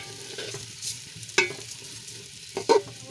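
Rice being stirred into a pan of butter and carrots for butter pulao gives a soft, steady sizzle with a few sharp scraping clicks from the spoon, close and quiet without talk.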